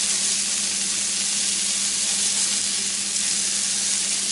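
Salisbury steak patties fry in a pan with a loud, constant sizzle close up, a dense crackling hiss that holds steady throughout with no voices.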